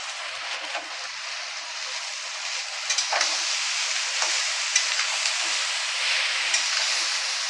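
Raw papaya pieces frying in hot oil in a pan with two bay leaves, giving a steady close sizzle and hiss with occasional small pops and stirring clicks, and no talking.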